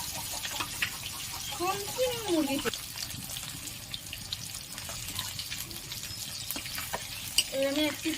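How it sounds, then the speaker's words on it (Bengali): Katla fish pieces frying in oil, a soft sizzle under a voice talking, with occasional scrapes and knocks of a spatula in the pan. "মাছগুলো আমি ভালো করে লাল লাল করে ভেজে নেব।"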